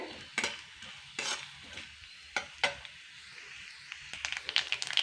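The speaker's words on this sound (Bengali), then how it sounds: "নারকেলগুলো হালকা করে ভেজে নেব একটু।" Oil sizzles softly in a pan as coconut fries while a utensil scrapes and stirs, with several sharp clinks of metal against the pan.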